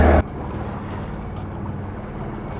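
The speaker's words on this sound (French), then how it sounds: "je te saoule pas avec le bruit du moteur" A sailboat's engine drones steadily while motoring over a flat, calm sea, a constant low hum mixed with wind and water noise after a brief louder burst at the start.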